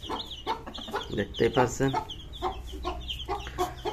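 Tiger chickens cluck in busy, overlapping bursts while being fed rice and wheat, close by, with someone speaking briefly over them.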